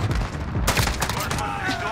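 Gunfire in Call of Duty Modern Warfare sounds as a dense, loud burst of shots and impacts over a busy game mix, with a voice talking briefly over it.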